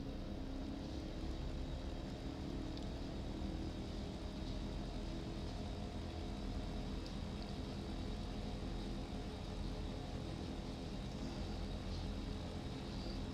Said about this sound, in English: now we are taxiing straight ahead